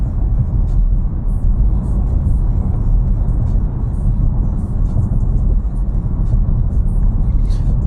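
A 2026 BMW M3 Competition cruises along, its engine giving a steady low rumble blended with constant road and tyre roar from inside the cabin, loud and unbroken.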